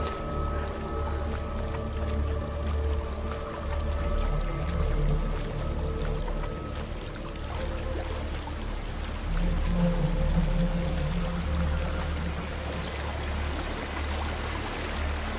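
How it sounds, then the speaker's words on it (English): Waterfall in Hellblade: Senua's Sacrifice, a continuous rushing pour of water that holds steady throughout, with low tonal game ambience layered beneath. "There's a waterfall."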